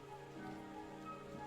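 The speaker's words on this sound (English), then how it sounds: "It would have to go and start raining, wouldn't it?" Steady rainfall in Dragon Quest XI S, a soft continuous patter of drops on surfaces that holds even and unbroken throughout, with no voices.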